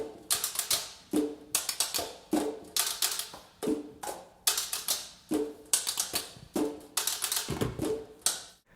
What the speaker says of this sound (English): I wanted the saxophonists to play their instruments as if they're percussionists